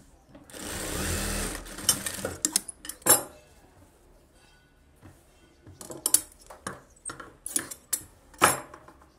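A sewing machine stitches a blouse back piece in short, rapid bursts. A longer run of stitching comes first, then clicks and brief stops as the fabric is adjusted.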